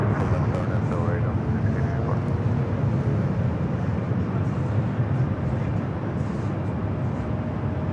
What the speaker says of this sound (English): The KLM Dreamliner coming from Amsterdam. Arriving at 25 left there on the south.